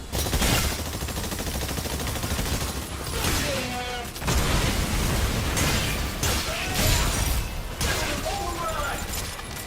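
Gunfire and grenade blasts in the video game Exoprimal, with rapid bursts of shots and heavier explosive pops layered over game effects and voices, loud and continuous with brief dips between volleys.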